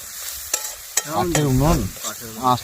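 Chicken liver stirred in a pan over a wood fire, with several sharp scrape clicks and a steady sizzle underneath, while a voice hums or sings through the middle.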